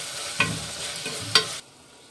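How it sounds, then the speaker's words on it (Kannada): Tomatoes and masala fry in oil in a pan, a steady sizzle broken by two sharp scraping stirs, then the sound cuts off abruptly. "ಟೊಮೊಟೊನೂ ಎಲ್ಲ ಎಣ್ಣೆಗೆ ಫ್ರೈ ಆಗಬೇಕು"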